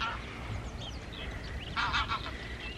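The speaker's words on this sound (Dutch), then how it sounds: "Dit zijn allemaal ganzen die komen aanvliegen." Geese fly in near Snekemeer, honking repeatedly at a moderate distance, with a louder cluster of calls toward the end over faint outdoor background noise.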